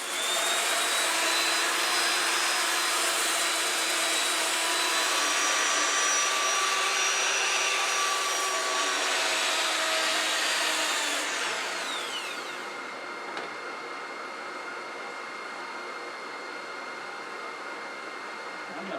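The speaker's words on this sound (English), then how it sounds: "I'm going to power sand the outside of this," A power sander works on the outside of a turned piece spinning on a wood lathe, a steady loud whirring drone that drops in pitch and level about two-thirds through, with no talk.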